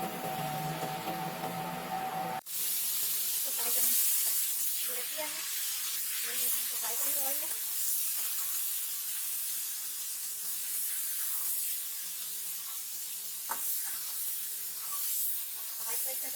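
Chicken and mixed vegetables for chicken shashlik with gravy hiss and spray steadily in a hot pan, with scattered clinks of stirring, after a brief different sound at the start.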